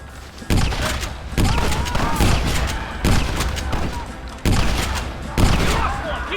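Rapid volleys of gunfire in a Western shootout while defending a gate in Red Dead Redemption, loud and dense, with repeated bursts and sharp individual shots overlapping, along with shouting voices.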